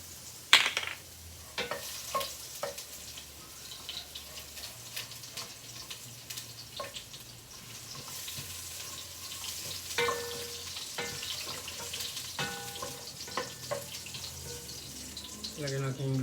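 Ginger sizzling in a pan for chicken tinola, a soft continuous frying hiss broken by clinks and scrapes of stirring, with a tap running briefly and a voice speaking now and then.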